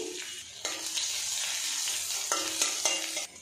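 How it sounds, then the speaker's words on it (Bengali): Whole cumin and chopped ginger fry in mustard oil, a constant bright sizzle interrupted by a few scraping stirs of a spoon against the pan. No voices are heard. "এবার এর মধ্যে দিয়ে দেব আদা কুচি।"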